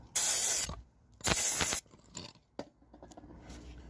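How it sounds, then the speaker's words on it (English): Two strong bursts of aerosol brake cleaner hiss onto the brakes of a Tomos AT50 scooter, each about half a second, followed by a few small clicks and handling noises. "let's spray down the brakes"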